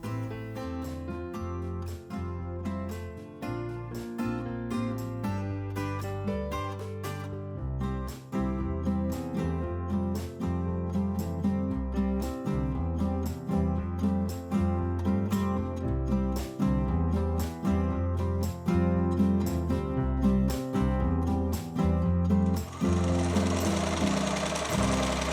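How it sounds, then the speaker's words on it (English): A BERNINA 8 series embroidery machine fitted with a quilting hoop stitches a design in a fast, steady mechanical hammering rhythm that runs loud and close throughout, briefly pausing early on before continuing. "Start the embroidery design."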